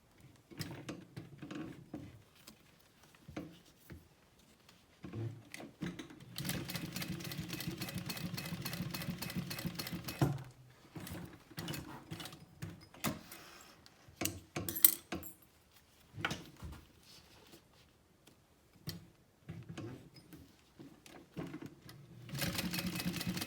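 A domestic sewing machine stitches a handbag seam in several short bursts of quick, even whirring, separated by quiet pauses with soft handling clicks and rustles, close and moderately faint.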